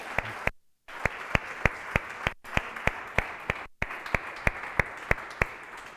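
A church congregation claps in a steady, rhythmic beat, sharp hand claps repeating evenly with a couple of brief silent gaps, loud and close.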